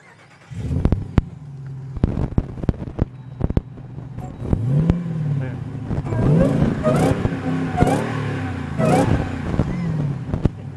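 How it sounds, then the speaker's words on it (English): A Jeep Gladiator fitted with a Hellcat supercharged engine and 3.5-inch wrapped exhaust starts and revs, its deep exhaust rumble and whining supercharger swelling in repeated bursts over a loud, close idle. "Not sure what's louder, the exhaust or the supercharger whine."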